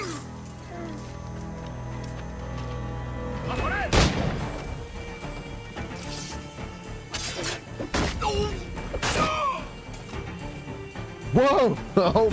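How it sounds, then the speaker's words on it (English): Gunfire in Assassin's Creed IV Black Flag, a few sharp bursts and crashes scattered through the stretch amid game background noise, with a voice talking over it. "Gunshots are not loud."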